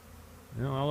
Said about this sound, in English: Just standing in the middle of a cloud of bees.